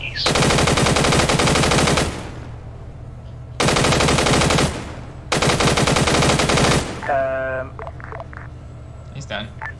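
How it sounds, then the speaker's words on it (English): Sustained machine-gun fire from a tank in ArmA 3, three long loud bursts close up, followed by quieter radio chatter and game sounds. "Machine gun, fire that shit."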